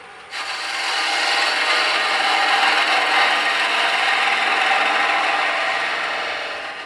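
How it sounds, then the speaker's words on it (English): A beading parting tool cuts into spinning wood on a lathe while a birdhouse ornament is turned on a mandrel, giving a steady, close, even scraping rasp that lasts several seconds with no talking. "This is a beading parting tool"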